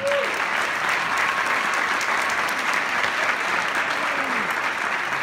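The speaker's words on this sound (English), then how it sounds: "So let's clap it up for them one more time." Applause from the audience at a high school holiday band concert, a continuous, even roar of many hands clapping at full level throughout, with a faint voice briefly audible beneath it.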